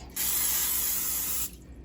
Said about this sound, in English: But first I have to spray some pan so it doesn't stick.